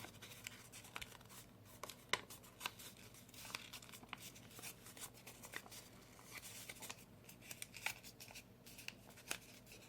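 Quiet, irregular snips and paper rustling, scissors cutting folded colored paper diagonally in short bursts with soft handling noises in between.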